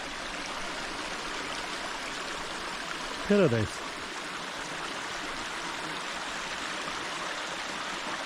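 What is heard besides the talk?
running water of a wilderness stream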